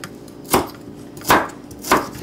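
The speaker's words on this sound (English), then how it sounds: "So we're just chopping this up" A knife chops ingredients for a bean salad on a cutting board in three crisp, evenly spaced strikes, close and clear with no talk.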